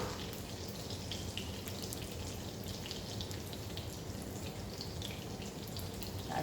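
Hot oil bubbles and crackles around breaded food as it deep-fries, a steady dense sizzle with no talking.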